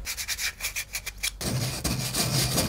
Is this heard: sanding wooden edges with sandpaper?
yes